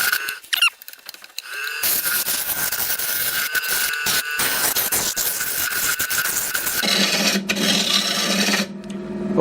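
Wood lathe turning a spindle down to a smaller diameter, a sustained scraping, rasping cut with squeaky tones, starting after a brief pause and stopping near the end.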